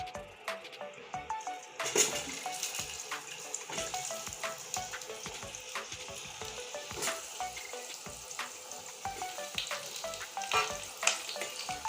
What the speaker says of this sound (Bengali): এখন আমি আলুগুলো ছেড়ে দিচ্ছি তেলে